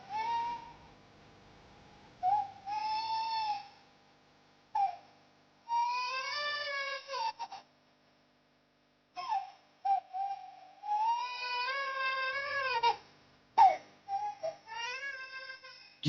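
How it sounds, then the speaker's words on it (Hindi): An infant cries in a mythological TV drama, the sound seeming to come from inside a fish's belly: repeated high, wavering wails in bursts separated by short silences, clear and fairly close, with no talking. "बच्चे के रोने की आवाज ये कहां से आ रही है?"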